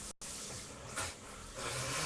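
Steady broadband spray of water from a large new shower head, continuous and fairly close, with a brief dropout near the start and slight swells in intensity.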